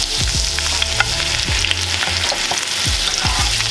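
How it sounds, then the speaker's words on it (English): Steak sizzling in hot butter in a pan over lowered heat, being moved around and basted, with a steady close frying hiss and repeated soft scraping and stirring knocks throughout. "Lower the heat just a tad. Nice beautiful butter. Then move the steak around."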